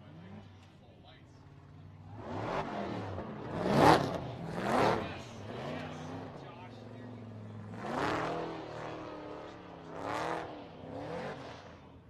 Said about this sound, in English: All right, warm up their tires.